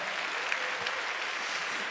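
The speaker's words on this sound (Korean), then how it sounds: "우리 하나님의 가족으로 우리 박수로 환영해 주시기 바랍니다" A church congregation applauds to welcome new members who have completed a ten-week newcomer course during a Sunday worship service; steady, dense clapping from a large crowd fills the whole stretch.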